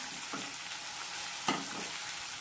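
Green chillies fry in hot oil in a pan for a chicken biryani, a steady soft sizzle broken by a couple of brief stirring scrapes, close up and with no voices.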